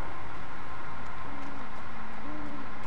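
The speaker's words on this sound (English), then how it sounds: "You hear that? There's like owls." Owl hooting in the Alan Wake video game, low repeated hoots faintly audible over a steady hiss of eerie night ambience, with no talking.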